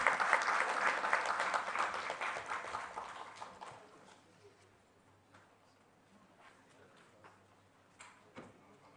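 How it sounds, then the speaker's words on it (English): Audience applause at a World Parliament Day session rings out loud and dense at first, then gradually thins into scattered claps over several seconds before fading to near quiet with a few stray knocks. "Please, let's give her a round of applause."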